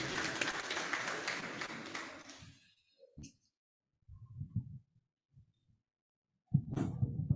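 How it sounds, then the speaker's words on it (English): At an annual general meeting, an audience gives a burst of applause that fades out after a couple of seconds. Scattered faint taps and thumps follow in near silence, then a louder round of clapping returns at the end. "A round of applause, please."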